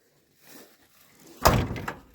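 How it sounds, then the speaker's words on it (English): A single solid thunk of a Ford F-series pickup truck door slamming shut nearby, preceded by faint handling noise and followed by a short rattle. "Door closes good."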